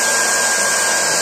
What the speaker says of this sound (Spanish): Voy a meterle más chicha al secador y a ver qué es lo que pasa